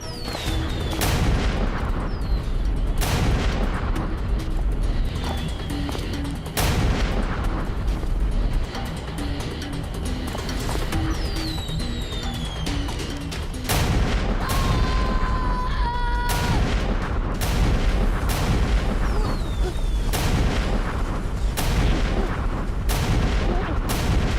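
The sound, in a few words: firecrackers exploding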